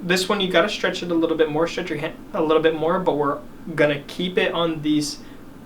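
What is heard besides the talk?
No distinct noise like a dog, phone or traffic.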